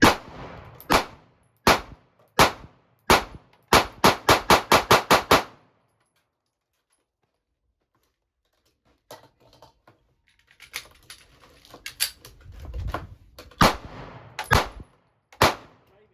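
Handgun shots from a Sig Sauer P365 or Springfield Hellcat fired into a cardboard target: sharp, loud single reports, several spaced then a rapid string, a pause, then more scattered shots and handling noise.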